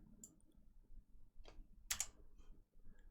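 Several quick, crisp clicks of computer keyboard keys being pressed to delete text in HomeGauge 5 desktop software, coming in short separated bursts over a quiet room.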